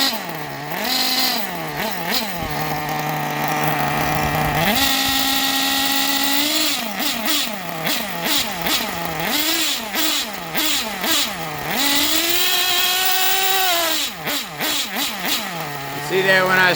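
A Hyper 7 nitro RC buggy engine revs hard and repeatedly with rising and falling pitch, bogging as the throttle opens, loud and close, with a short steadier idle between bursts.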